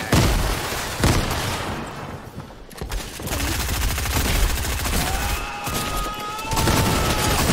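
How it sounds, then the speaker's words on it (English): Rapid gunfire and grenade blasts from a Fortnite match crowd the scene in dense, overlapping volleys, loud and continuous, with a few dips between bursts and a brief low voice. "They're throwing a lot of grenades."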